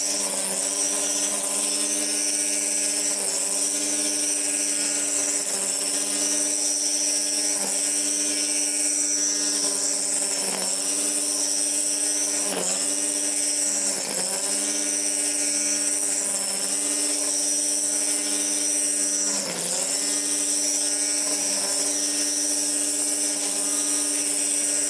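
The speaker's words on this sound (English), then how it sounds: "As a regular string trimmer, I think it's fine." An RSW Badger 40V battery string trimmer runs at full speed with a steady, loud, high-pitched electric motor whine, rich in harmonics, with a few brief dips in pitch as the line meets grass.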